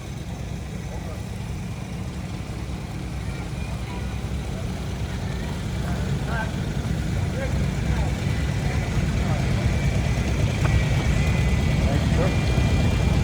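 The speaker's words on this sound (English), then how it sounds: "Deborah Daughtery from Edmond, Kentucky, on a John Deere lawn tractor, Model 317." A 1979 John Deere Model 317 lawn tractor engine idles steadily and grows gradually louder, with its low rumble running throughout, during a tractor parade.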